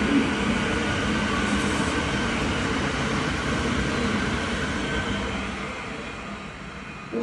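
Steady low rumble of a passenger train idling at a station platform in Slovakia, a broad continuous hum with faint hiss above, gradually quieting toward the end.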